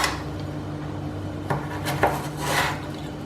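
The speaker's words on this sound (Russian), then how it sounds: "Точно так же соломкой я режу морковь." A knife knocks and scrapes on a cutting board in a few irregular strokes, close up, cutting carrot into strips, over a low steady hum.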